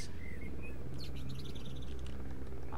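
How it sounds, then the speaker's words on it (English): Bird chirps in the Call of the Zone video game, a few short high tweets sounding over a steady, dense ambient background of low hum and insect-like noise, with no talking. "I hope it's not a mutated bird."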